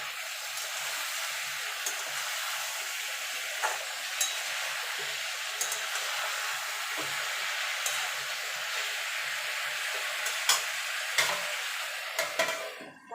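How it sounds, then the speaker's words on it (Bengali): Mixed vegetables for a simple vegetarian panchmishali sabji frying in a pan, a continuous soft hiss of sizzling with occasional faint clicks and scrapes from stirring, no voices. "ঢাকা দিয়ে দিয়ে একটু ভাজা ভাজা করে নেব। মাঝে মাঝে কিন্তু নাড়তে হবে।"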